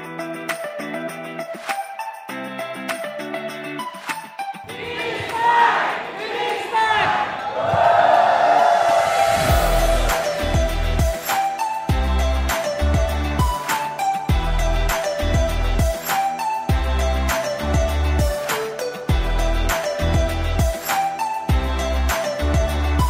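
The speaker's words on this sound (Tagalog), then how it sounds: "Palakpak naman dyan." A crowd in Bacolod City bursts into cheering and applause over loud, steady music, swelling for a few seconds before the music carries on with voices mixed in.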